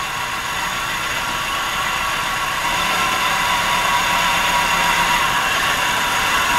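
A 1997 Nissan Altima engine with a misfire idles while its fuel return line is pinched. It gives a steady, even mechanical hum with a faint ticking texture that runs unbroken throughout.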